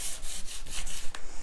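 Sandpaper scuffs back and forth across a wooden coffee table during a makeover, a close, rhythmic rasping of quick strokes heard alone.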